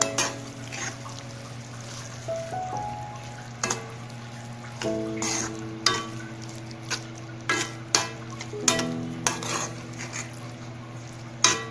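Mushroom masala with curry leaves is stirred in a pan, with a low cooking hiss under repeated scraping and clinking strokes of the utensil against the pan. No one speaks.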